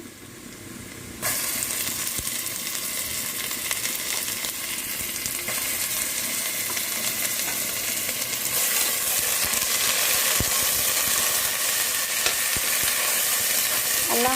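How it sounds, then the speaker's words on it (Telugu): Ginger garlic paste and onions fry in a pan with a bright, dense sizzle that jumps louder after a second and holds as a steady close hiss, broken by occasional stirring scrapes. "ఇప్పుడు అల్లం వెల్లిపాయ వేస్ట్ వేసుకుందాము"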